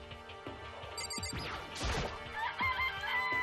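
Chickens in a coop in the video game Danganronpa give a brief crowing call over a game sound effect with a crash-like hit, heard with no talking.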